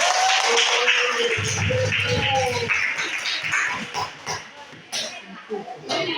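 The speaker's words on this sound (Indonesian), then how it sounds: "Berikan tepuk tangan untuk kelompok pertama." A classroom of students claps for the first group of a junior high Islamic jurisprudence micro-teaching lesson, a dense burst of applause mixed with voices and cheering that fades into scattered claps.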